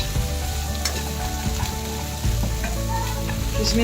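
Cashews and raisins fry in hot oil in a pan on the stove, a steady, loud, close sizzle that continues without a break and grows slightly fuller partway through.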